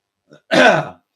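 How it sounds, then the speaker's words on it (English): A single short, rough throat clearing close up, preceded by a brief faint catch of breath. "Sorry for clearing my throat like that."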